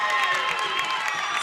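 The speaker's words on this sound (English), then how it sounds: "St. Joe crowd is going crazy." A home basketball crowd for St. Joe roars and cheers after a made three-pointer, a dense, steady wall of voices and applause that holds loud for the whole stretch, with a commentator's voice running over it.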